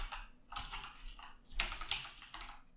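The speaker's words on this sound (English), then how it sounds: "I'm going to type in response type" Quiet, close typing on a computer keyboard, with bursts of quick key clicks separated by short gaps, soft and alone with no talking.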